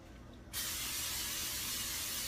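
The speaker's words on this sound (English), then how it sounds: "I'm going to spray this pan with olive oil." After a short quiet moment, a steady hissing spray of olive oil onto a pan starts and keeps going without a break, close by.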